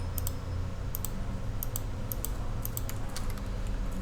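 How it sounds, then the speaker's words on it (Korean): Computer mouse clicks, a steady series of crisp paired clicks spread evenly across about four seconds, heard up close over a low room hum with no speech. "중심점 클릭하고 그 다음 마우스로 교차되는 지점을 클릭하시면 돼요"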